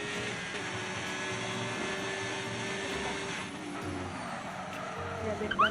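A racing video game car locks its wheels in a sustained tire skid over engine drone, with fast excited commentary running throughout.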